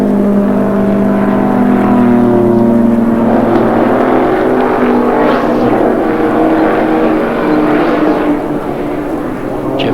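Sports sedan race cars from a 1989 GT race at Amaroo Park, one coming off the bottom of the lake corner after a trip into the dirt; a loud, steady engine drone fills the whole stretch, with rising and falling passes.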